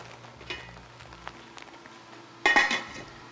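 A metal lid set onto a pot of cooking mutton for biriyani, a clattering clank after a few light clinks of utensils, close and brief with faint sizzling beneath.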